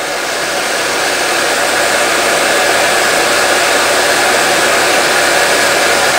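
Steady, loud broadband blowing hiss from a heat gun heating plastic, continuous and unchanging throughout with no talking.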